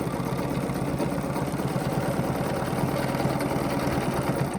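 A domestic sewing machine stitches a quilt block guided by a Westalee ruler, running in one steady, continuous mechanical whir close by with no pauses.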